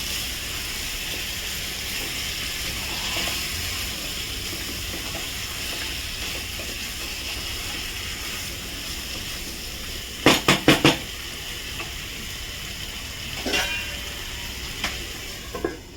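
Chicken frying in a pan with a splash of water added, a soft steady sizzle throughout, broken near the end by a quick cluster of metal spoon clinks against the pan and a few later scrapes.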